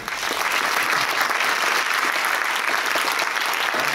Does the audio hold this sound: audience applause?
yes